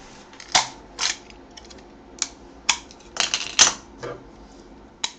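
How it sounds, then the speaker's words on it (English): Blade cutting off the base of an aluminium beer can: a string of sharp, separate snips and crunches at an uneven pace, close and fairly loud, with no talk. "So now we cut off the base of this."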